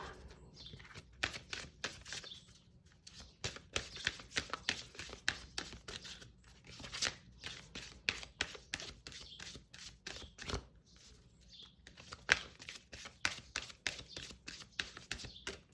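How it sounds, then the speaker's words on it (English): Oracle cards are shuffled repeatedly in quick riffling bursts, close and crisp, with brief pauses between rounds. "see how this shuffles"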